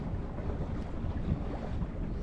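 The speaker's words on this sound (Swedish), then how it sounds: "Nu kommer vindpuff." Steady wind rushes across a mast-mounted microphone with a rising gust during a sailboat club race, over the low wash of water against the hull.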